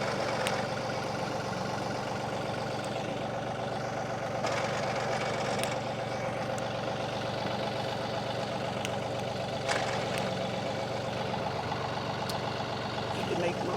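A 2019 John Deere 2032R 32 hp compact tractor with hydrostatic drive and a 220R loader runs steadily up close with the PTO engaged, a continuous engine drone with a few faint clicks.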